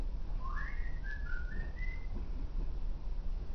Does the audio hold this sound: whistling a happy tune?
yes